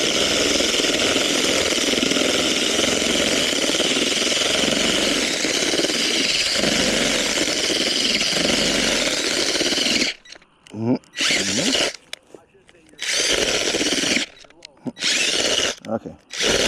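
A power drill screws a ground anchor into dirt with a loud, steady grinding whir for about ten seconds, then stops and starts in short bursts.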